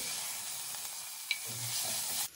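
Ginger garlic paste stirred in a hot pan while making mutton paya soup, a continuous close sizzle with soft scraping strokes, ending abruptly.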